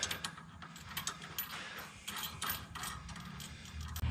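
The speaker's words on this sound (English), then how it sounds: "using your 19mm wrench and socket, torque this down to 80 foot-pounds" A ratchet wrench and 19mm socket tighten a nut on a Dodge Ram 2500/3500 heavy-duty steering upgrade, rapid close clicking of the pawl in quick steady runs, heard alone without voices.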